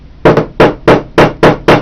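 Hammer tapping wooden inlay lines down into a wood surface, six sharp, close, evenly spaced knocks, loud and alone.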